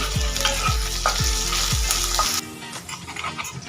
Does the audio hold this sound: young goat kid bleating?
no